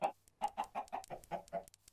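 Chickens in a modded Minecraft game cluck in a quick run of about eight short, evenly spaced calls, clear and fairly close with no talk over them.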